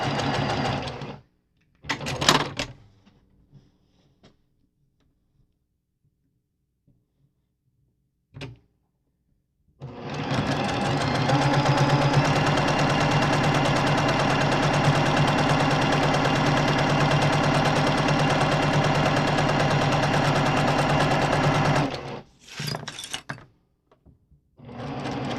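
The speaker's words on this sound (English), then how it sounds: "let's sew that down, and then we can sew the layers together." A sewing machine stitches fabric layers together for a floss wallet, running in a long steady burst of fast rhythmic whirring and clatter after a few short taps and handling noises, close and alone.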